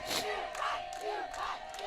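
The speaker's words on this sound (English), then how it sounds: "All the cheering in the background." A crowd at a collegiate archery target nationals cheers and shouts continuously, with rising whoops layered over a steady roar of voices and no single voice standing out.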